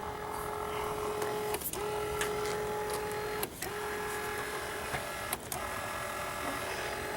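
A windshield wiper motor in a 1991 Chevy S10 runs at full speed, giving a steady, loud mechanical whir with a constant tone and a few brief dropouts, with no talking.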